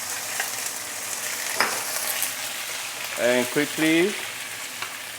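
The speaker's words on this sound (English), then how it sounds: "give it some stir fry, and you will notice the pork belly immediately become darker in color already" Pork belly sizzles and fries steadily in a hot pan as it is stir fried with rock sugar during braising, a loud continuous hiss with a brief spoken phrase over it.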